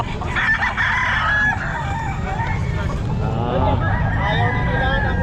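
Rooster crowing at a chicken pet market in Calumpit, a loud close crow rising over clucking fowl and a murmur of crowd chatter.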